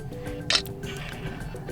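Camera shutter click from a HUAWEI MatePad 11 (2021) tablet taking a photo, a single short bright snap near the middle over quiet background.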